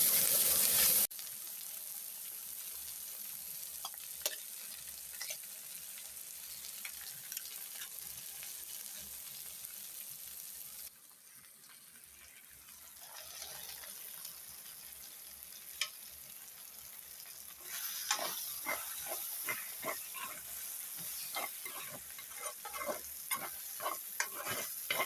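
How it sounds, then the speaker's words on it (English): Okra frying and being stirred over high heat in a village kitchen, a steady close sizzle with intermittent scraping and clicking stirs, fading quieter midway before louder stirring returns near the end. "in order for the okra to not release its water, you have to fry it. Yeah, and your heat has to be high too."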